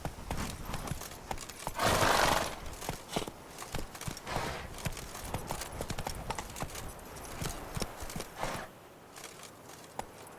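Roach the horse gallops in The Witcher 3, a rapid, rhythmic clip-clop of hooves running throughout, with a louder snort or whinny near the start and faint background ambience.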